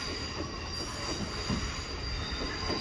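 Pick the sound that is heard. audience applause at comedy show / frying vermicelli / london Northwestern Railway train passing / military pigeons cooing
london Northwestern Railway train passing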